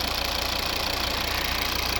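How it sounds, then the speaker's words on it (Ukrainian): A 2011 Volvo V60 with a 2.0 D4 diesel and automatic gearbox idles, a steady, even engine hum with a faint rhythmic knock running evenly throughout, close and unbroken, with no talking. "Ось робота двигуна."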